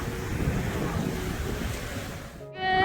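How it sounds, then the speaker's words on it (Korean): Typhoon wind roaring across a Jeju beach at Gwangchigi with surf crashing, a dense steady rush of wind buffeting the microphone over the waves. "제주도는 서 있기도 힘든 상태입니다. 바람이 많이 불고 있어요."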